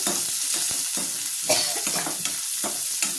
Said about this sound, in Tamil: போட்டு நல்லா வதக்கிடுங்க